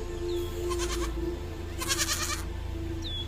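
Mountain goats bleat on a cliff in two short bursts of nasal, wavering cries over a steady low background hum.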